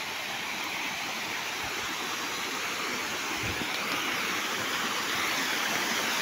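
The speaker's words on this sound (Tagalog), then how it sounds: "Kawali Falls." Steady, dense roar of Kawali Falls in Doña Remedios Trinidad, Bulacan, a waterfall rushing continuously at close range with no break, broadband and even throughout.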